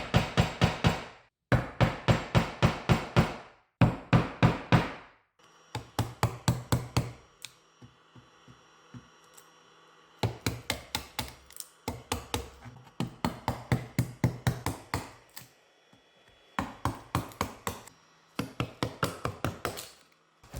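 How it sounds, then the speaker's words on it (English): A chisel struck repeatedly to define a mortise outline in wood, heard as clusters of sharp, loud taps in rhythmic bursts separated by brief pauses, close and alone. "Using the chisel I define the outline."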